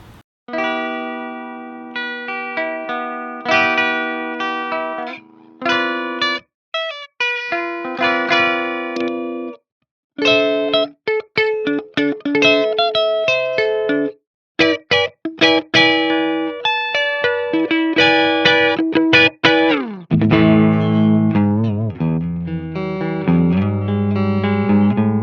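A 2015 Gibson Firebird V electric guitar on a clean amp channel, switching from the bridge through middle to neck pickup; loud plucked notes and chords in short phrases with brief pauses, warming toward a fuller low end near the close.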